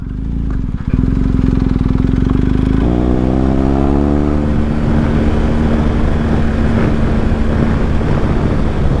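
A motorcycle ridden over a bumpy road, its engine droning loud and steady throughout, with the pitch shifting as it accelerates partway through.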